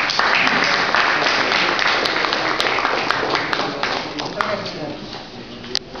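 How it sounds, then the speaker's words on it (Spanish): Audience applause after a poetry reading at Casa Mariátegui, a dense, fairly loud burst of clapping that tapers slightly toward the end, with a few sharp taps and voices mixed in. "aplausos para ellos"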